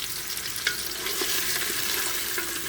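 Meat frying in a pot as the base for soup, a steady moderate sizzle with scraping stir strokes and light clinks throughout, no one speaking.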